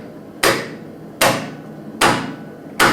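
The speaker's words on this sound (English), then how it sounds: "I don't need the backup hammer here, but I'll use it anyway." Hammer tapping threading dies into place on a tenon, four sharp metallic strikes spaced evenly about three-quarters of a second apart, each ringing briefly and fading, close and alone.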